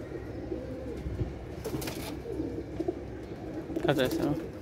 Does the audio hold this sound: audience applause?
no